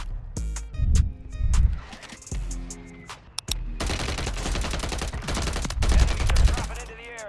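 Striker SMG gunfire in the shooter game Warzone 3 comes as loud, close bursts of rapid automatic fire, repeated across the stretch with brief pauses and in-game effects between the bursts.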